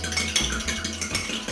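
Eggs with water, pepper and mixed herbs being beaten briskly in a bowl, a fast close rattling clatter of whisk or fork against the sides, steady and loud.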